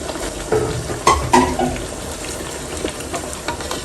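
Tomato paste goes into a pan of frying mutton rogan josh, giving a sizzle with wet stirring and scraping and a few louder clinks of a utensil against the pot, heard close up.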